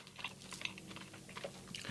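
Crunchy cinnamon bun with frosting being chewed up close, with irregular crisp crunches and soft mouth noises repeating through a short stretch, no talking.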